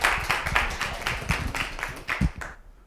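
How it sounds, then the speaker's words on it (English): Audience applause at a Harvard lecture hall symposium, a steady patter of many hands clapping across the room that fades out near the end. "You can give him a round of applause."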